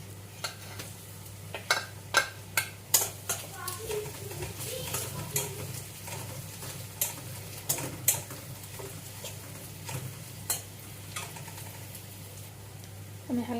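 Garlic frying in oil in a pan, a soft sizzle under a low steady hum, broken by a series of sharp clicks and scrapes from stirring, fairly quiet throughout.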